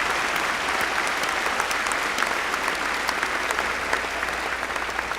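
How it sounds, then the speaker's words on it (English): Dense, steady applause from a large audience at an MCC college commencement ceremony, filling the hall evenly and without pause for about five seconds. "Please join me in giving them a big round of applause for their leadership"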